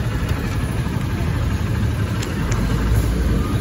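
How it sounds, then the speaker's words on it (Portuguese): A motorcycle engine idles steadily and close by while being parked at night in Santa Cruz, a constant low rumble with faint voices underneath. "Netinho tá estacionando a moto."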